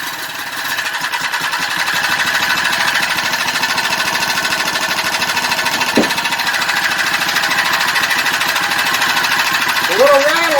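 A Predator 79cc small engine runs steadily up close, its rapid clacky, rattly knocking pulsing evenly throughout, with a brief voice cutting in near the end.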